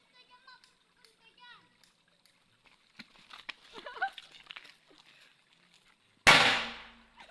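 A lit firecracker is tossed into water and bursts with one loud, sharp bang and splash near the end, after children chatter and small sounds in the background.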